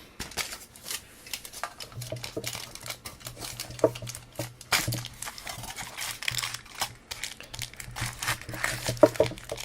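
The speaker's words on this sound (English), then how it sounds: "now we're going to put on a single layer of regular foil" Regular foil is crinkled, stretched and pressed down over a shisha bowl packed with Nakhla Zaghloul tobacco, giving close, irregular crinkling and rustling bursts across the whole stretch with no talk.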